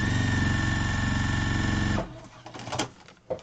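A sewing machine runs steadily, stitching quilt pieces for a pineapple-pattern quilt top, with a continuous buzzing whir for about two seconds before stopping, followed by a few soft handling clicks.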